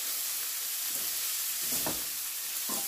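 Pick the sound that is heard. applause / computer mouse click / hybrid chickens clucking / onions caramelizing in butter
onions caramelizing in butter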